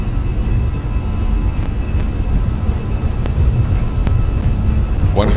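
TAP airliner engines at takeoff power during the takeoff roll on a Lisbon runway: a loud, steady broadband roar holds throughout with a low rumble, while speech comes in briefly over it near the end.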